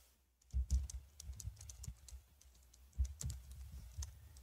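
Typing a username on a computer keyboard: quick, light key clicks in short irregular bursts with brief pauses, close and fairly quiet in a still room.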